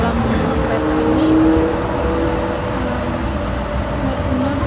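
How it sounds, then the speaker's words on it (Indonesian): Steady loud rumble and rush inside a fast airport train in motion, a continuous broadband roar with faint tonal whine, no pauses throughout. "Lihat kan, kencang karena kereta cepat dalam airport."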